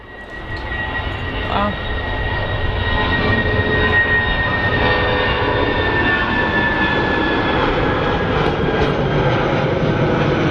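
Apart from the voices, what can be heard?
airliner taking off at Manchester Airport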